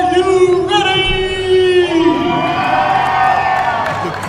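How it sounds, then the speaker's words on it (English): A packed crowd at the Buffalo Fitness Expo arm wrestling match roars, whoops and shouts in a loud, sustained wave, with a single voice bellowing strongly above it before the cheering swells again. "The crowd is absolutely electric right now, guys. It is absolutely insane."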